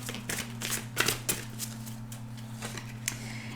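Oracle cards shuffled and drawn by hand in a rapid flurry of crisp, papery riffles and flicks, close and fairly loud over a steady low electrical hum.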